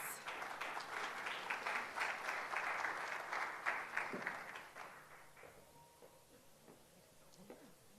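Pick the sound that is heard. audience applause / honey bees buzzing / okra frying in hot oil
audience applause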